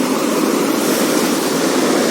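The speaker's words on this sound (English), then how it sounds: "Here it is a waterfall," Constant broadband rushing of a man-made waterfall in Achabal garden, Kashmir, close and loud with a steady, even roar and no voices.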